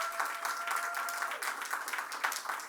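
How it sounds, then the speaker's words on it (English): An audience at a holiday market press launch outdoors applauds, a moderately faint, continuous patter of many hands lasting a few seconds with no talk over it. "let's give our mayor a round of applause"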